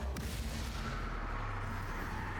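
A Bombarda explosion spell in Hogwarts Legacy sets off a deep, booming blast at the start, followed by a low rumbling roar that stays loud and continuous, with no talking.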